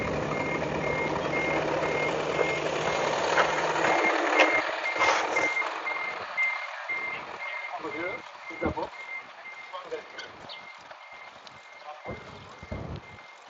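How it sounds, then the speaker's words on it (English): Repeated reversing beeps from a truck sound over engine rumble and rustling, the beeping fading as the engine noise drops away; a voice is briefly heard. "big truck's about to come. There's going to be probably a lot of noise."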